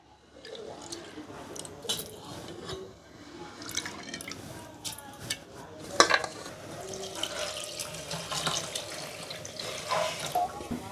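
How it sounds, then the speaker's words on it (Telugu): Soaked basmati rice is rinsed under a running tap in a sink, with steady trickling water, wet swishing and squelching of grains and scattered sharp clicks, all close, with no voices. "నానబెట్టిన బియ్యం ఇంకొకసారి కడుక్కుందాం"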